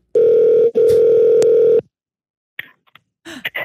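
A loud, steady telephone dial tone sounds as a call connects, briefly broken once and then cut off, followed by faint clicks and short electronic beeps.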